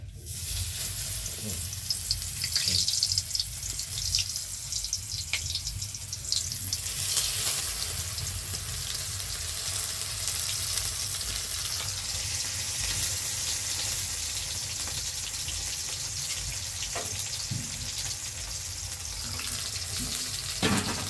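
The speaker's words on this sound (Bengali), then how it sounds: "সেই তেলেই দেখো আমি সবটাই ভেজে নেব" Cabbage pieces fry in hot oil, a loud, continuous, close sizzle and crackle that holds steady throughout with occasional stirring, no talking.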